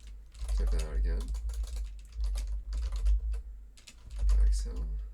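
Quick bursts of clattering keystrokes on a computer keyboard as Python code gets typed, close and crisp, with someone talking through most of it.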